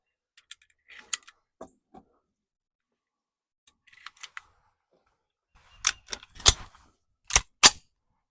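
Close, crisp metallic clicks come as rounds are pressed one by one into a gun magazine, light taps at first, then a series of sharper, louder snaps near the end, with silence between.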